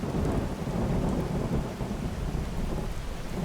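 Rain and thunder in the video game Skyrim: a heavy low rumble of thunder rolling under constant rain hiss, loud and sustained with no voices.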